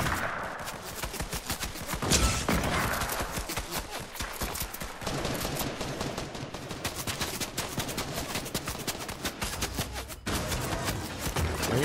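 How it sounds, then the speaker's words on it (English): Dense, rapid gunfire from several directions crackles nonstop in a Fortnite match, overlapping volleys and bursts with brief lulls near the two- and ten-second marks. "I'm getting shot from every angle right now"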